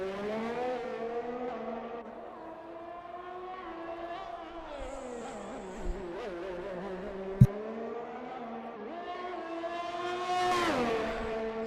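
A Ferrari Formula 1 car's engine in a racing video game at the Azerbaijan Grand Prix screams steadily through a lap, its pitch rising and falling through gear changes, with a brief sharp click midway and a climbing rev near the end.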